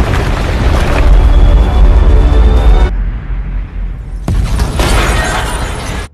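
Red Room headquarters collapses and explodes in a Black Widow film sequence: a loud, sustained rumbling roar with crashing debris, a brief near-silent gap, then another burst of heavy destruction.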